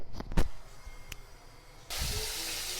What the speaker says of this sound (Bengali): আমি এই প্রথমবার মাছ ভাজছি